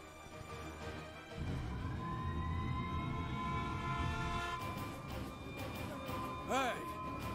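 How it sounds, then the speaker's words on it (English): Siren in the video game Xenoblade Chronicles: Definitive Edition, a sustained rising and wailing tone over game rumble and train-like noise, with people talking over it throughout. "Hey, this siren, it sounds different."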